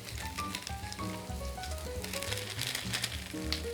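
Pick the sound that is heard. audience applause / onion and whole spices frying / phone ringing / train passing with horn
onion and whole spices frying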